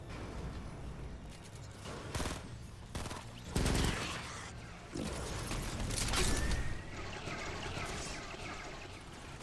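Sustained gunfire in a video game aimed at husks, a dense steady barrage with brief louder bursts over a constant noisy background, no voices.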